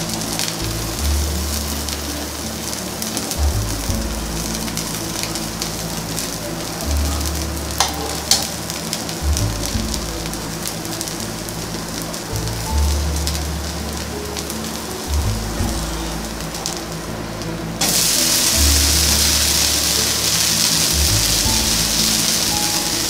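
Rava dosa batter fries on a hot pan over a high flame, giving a steady close sizzle with a low rhythmic rumble beneath it that grows brighter and louder toward the end.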